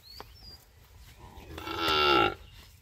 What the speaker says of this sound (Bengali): একটা ষাঁড় বাছুর শাহিওয়াল জাতের।